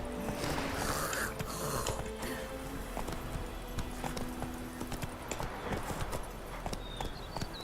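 Horse hooves clip-clop at a gallop in The Witcher video game, a quick rhythmic drumming of hoofbeats under a rushing wind-like wash, moderately loud, with faint game effects scattered through.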